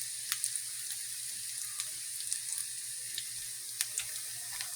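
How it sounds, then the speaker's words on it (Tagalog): Chili being sautéed with garlic and onion in a pan for Bicolano-style goat kandingga: a faint, steady sizzle with scattered small pops and crackles over a low background hum. "isabay na natin sa paggisa mga idol yung sili para lumabas din yung aroma niya"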